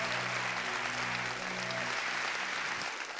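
A church congregation at an evening Baptist service claps steadily in a dense, continuous wave of applause that fades slightly at the end.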